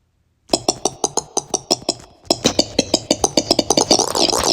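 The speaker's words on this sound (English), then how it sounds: "I just thought that kind of sounded like one of those woodblock instruments" Short, bright woodblock-like clicks from a recorded sample tap out a quick, even run of notes, pause briefly, then return in a denser, faster burst, crisp and close with no voices.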